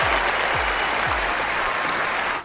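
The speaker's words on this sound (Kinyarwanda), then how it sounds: "amashyi kuri uyu muntu kabisa" An arena crowd at a Kigali talk show breaks into loud, dense, sustained applause that carries steadily for a couple of seconds before starting to fade.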